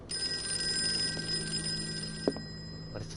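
A telephone bell rings in the Call of Cthulhu video game, a bright sustained trilling burst that fades out, followed by a faint knock and quiet room tone.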